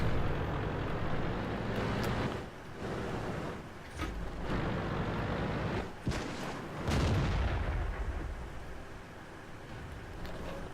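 Heavy tank cannon shots and rumbling engine noise in the World of Tanks video game, several deep booms spaced a few seconds apart over a constant low mechanical drone.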